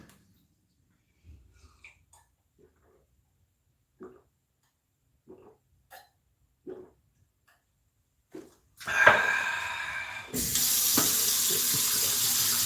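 A few soft clicks and handling knocks come first, then water gushes from a tap into a ZeroWater filter container, starting as a splashing burst and settling into a steady, close, hissing stream.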